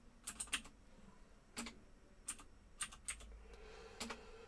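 Quiet keystrokes on an Amiga computer keyboard, irregular taps in short bursts with pauses between, close and faint.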